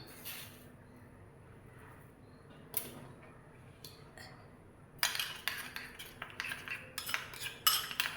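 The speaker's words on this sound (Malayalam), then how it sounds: "ഇനി നമുക്ക് നന്നായി ഒന്ന് മിക്സ് ചെയ്യാം" A spoon mixes coffee powder, sugar and curd in a small bowl, with quiet scraping at first, then sharper clinks and scrapes against the bowl in quick bursts, near and alone.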